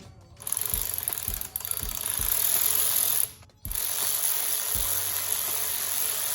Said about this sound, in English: I've also tightened down the fuel line that comes into the rail.